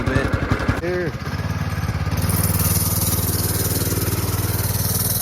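A small motorbike with a bad clutch, just brought out of winter storage, sputters through a few uneven revs and then settles into a loud, steady idle to warm up, close by, with brief speech near the start.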